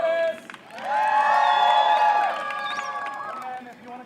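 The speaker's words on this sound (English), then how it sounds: "can I get a cheer for Venice?" Audience at a dagger fight cheering and whooping for the fighter Venice, a loud sustained swell of shouts peaking mid-clip and then easing into a lighter crowd murmur.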